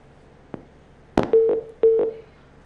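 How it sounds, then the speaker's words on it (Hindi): Electronic telephone line tones after a dropped call during a live TV news broadcast: a faint click, then a few short steady beeps in two bursts, with nothing else in the background. "टेलीफोन लाइन शायद ड्रॉप हो गई है"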